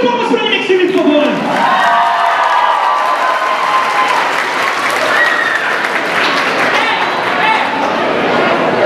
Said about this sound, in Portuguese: uma salva de palmas pro Mixstream, por favor